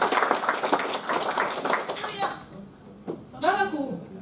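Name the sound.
applause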